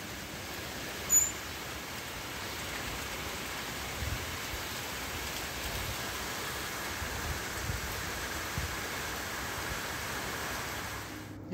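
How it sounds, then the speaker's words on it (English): Steady rain falls outside, a soft, even hiss throughout, with a faint knock near the start. "because it's raining outside."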